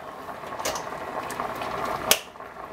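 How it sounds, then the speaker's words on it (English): Rice coming to a boil in a pot, a soft continuous bubbling with faint pops and one sharp click near the end, close and fairly quiet. "now when the rice starts to boil"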